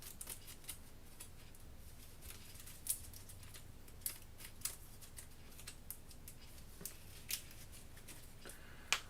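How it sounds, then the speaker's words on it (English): Deck of cards for the board game Kingdom Death: Monster being shuffled, a faint run of soft irregular clicks and riffling ticks over a quiet background, with no talking. "Hit location deck shuffle."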